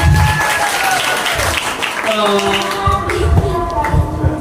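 A crowd applauds at a live Ramadan gathering held by RS PKU Muhammadiyah Temanggung hospital, with steady clapping layered with voices and sustained tones over a busy room.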